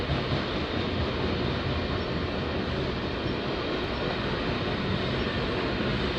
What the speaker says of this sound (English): It's too bad the train's going by and it's so noisy